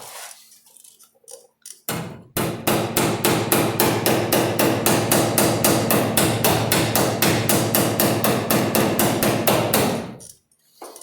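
A hammer rapidly tapping rusted sheet metal on a 1978 Camaro, an even run of sharp metallic strikes, loud and close, starting after a few scattered taps and stopping abruptly.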